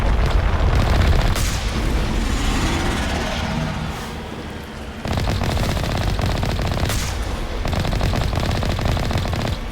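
Sustained rapid gunfire in Mass Effect Legendary Edition, loud dense bursts of automatic shots with brief pauses and booming impacts, near and continuous.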